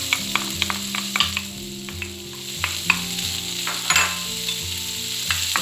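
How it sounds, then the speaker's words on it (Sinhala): Carrots frying in rendered bacon fat in a pan, a steady close sizzle with bright crackle throughout and occasional stirring clinks, no voices. "මේ විදිහට බේකන් ටික ෆ්‍රයි කරගන්නකොට ඒකෙන් උනන තෙල් වලට මම දාගන්නවා මේ විදිහට කැරට් ටික."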